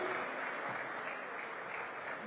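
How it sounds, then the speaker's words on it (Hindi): A crowd at an Ayodhya event broadcast on television welcomes lyricist Manoj Muntashir with applause. The dense clapping is continuous and even, heard at a moderate distance and fairly soft. "जोरदार तालियों से एक बार अभिनंदन करिए मनोज मुंतशिर का"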